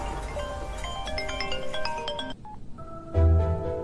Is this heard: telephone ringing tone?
yes